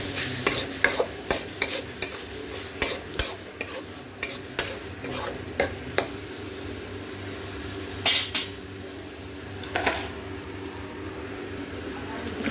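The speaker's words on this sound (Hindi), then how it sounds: "हम अभी चिकन को डालेंगे।" Chicken pieces stirred into sizzling masala in a pan, a spoon scraping and knocking repeatedly against the metal over a steady frying hiss, with no talking.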